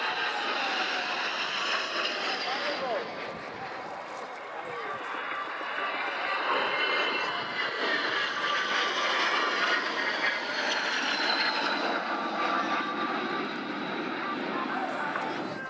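Patrouille de France jet aircraft, Alpha Jets trailing yellow smoke, flying an aerobatic display at an air show, a loud continuous roar that rises and falls as the jets pass, with commentary spoken over it throughout.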